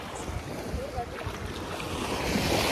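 Sea waves wash steadily onto the clean, clear-watered beach at Dhanushkodi, a broad continuous surf roar mixed with wind buffeting the microphone, growing slightly louder toward the end.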